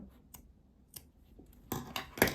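Scissors snip crochet yarn several times close by, a few light clicks followed by louder, sharper cuts toward the end in a quiet setting.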